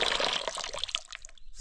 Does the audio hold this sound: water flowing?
yes